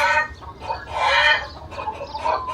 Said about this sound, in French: quel bruit ces poules? Cocotelette, cocotelette.